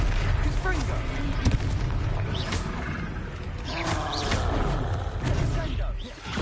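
Blasting spells like Confringo in Hogwarts Legacy, a video game, boom in a loud, chaotic fight with rumbling impacts and creature roars, while a voice talks over the action.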